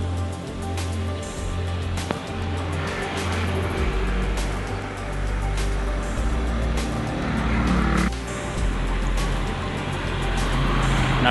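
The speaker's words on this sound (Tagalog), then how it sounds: "National Highway ho kasi kaya maingay, daming sasakyan." Steady road traffic on a national highway, a dense, continuous roar of passing cars and trucks heard nearby, with engine rumble and swells as vehicles go by.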